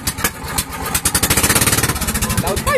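Motorcycle engine with an open exhaust pipe revving loud and close, a rapid choppy pulsing roar that builds and holds, with a voice shouting over it near the end.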